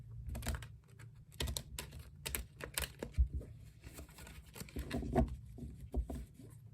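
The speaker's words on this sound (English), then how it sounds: "Some shuffling first, of course." Tarot cards are shuffled close up in quick, irregular bursts of soft papery riffling and tapping, quiet and continuous with small pauses.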